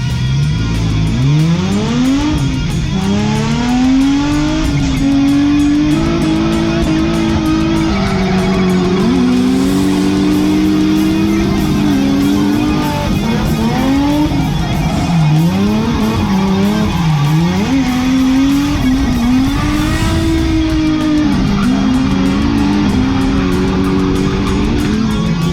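Drift car being driven hard on a track, engine revving up and down continuously with tire squeal and skidding throughout, loud and close for the whole stretch.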